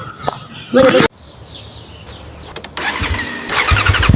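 A newly bought heavy motorcycle starts up after a couple of cranking attempts, then its engine settles into a loud, close rumbling idle, with a voice briefly audible nearby.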